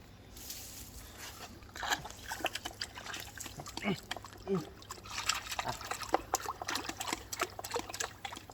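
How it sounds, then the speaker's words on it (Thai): An electronics board, a Perun ETU airsoft gearbox control unit, is dipped into water, giving a run of close liquid trickles, drips and splashes over a steady low hum, with a person talking at moments. "เดี๋ยวเราไปจุ่มน้ำหน่อยดีกว่า ว่าเป็นยังไง"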